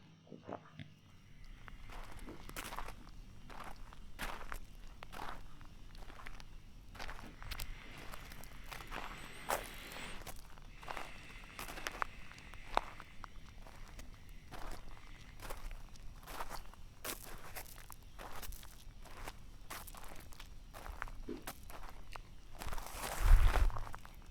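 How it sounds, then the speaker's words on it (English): Steady footsteps crunching on gravel, a regular walking rhythm close by, with faint outdoor ambience and a louder scuff near the end. "that was walking on gravel path"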